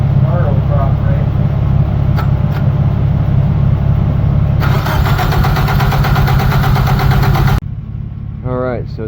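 A Nissan 200SX engine cranks over loudly and continuously with a rapid rhythmic chug, rising to a harsher, more intense churn partway through before cutting off, while a voice talks nearby.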